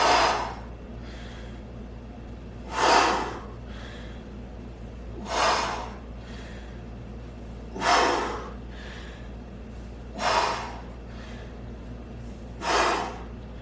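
Deep breaths pushed out during an energy and alertness exercise, heard as five or six loud, airy exhalations spaced about two and a half seconds apart over a steady low hum, with no talking.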